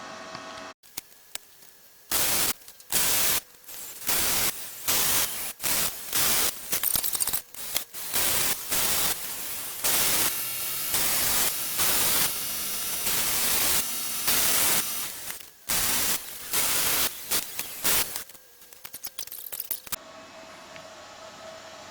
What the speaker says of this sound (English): So let's get her flipped over and get to welding.